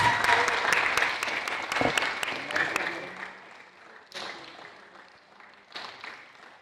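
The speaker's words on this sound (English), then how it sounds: "A round of applause for Leo Fadi." An audience at a Japan race event applauds the winner in a loud burst of clapping that thins out after a few seconds, with a voice speaking over the quieter tail.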